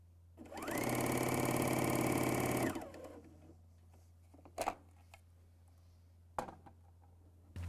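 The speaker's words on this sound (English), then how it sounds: "I recommend to run the machine briefly to distribute the oil." Bernina L 660 sewing machine running briefly after oiling, a loud close whir of about two seconds, followed by a few faint clicks and taps.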